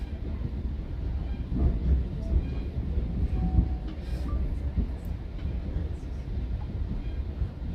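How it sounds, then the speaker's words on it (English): A GO Train commuter train heading into Toronto rumbles steadily from inside the car, a low continuous roar with faint rattles and occasional soft clicks, no talk. "this is just a commuter train"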